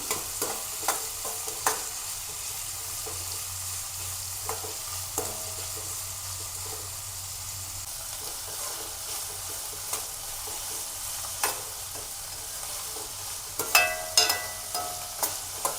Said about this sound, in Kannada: ಚೆನ್ನಾಗಿ ಫ್ರೈ ಮಾಡಿ ಫ್ರೈ ಮಾಡಿದಷ್ಟು ನಿಮಗೆ ಆ ಟೇಸ್ಟ್ ಬರುತ್ತೆ ಮತ್ತು ಚೆನ್ನಾಗಿ ಬೇಯುತ್ತೆ